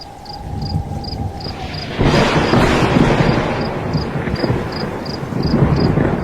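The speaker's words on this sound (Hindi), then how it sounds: "रात भर बारिश होती रही, बिजली कड़कती रही।" A broad roar of heavy rain and rumbling thunder swells in after a quiet start, with faint chirping insects pulsing steadily in the background.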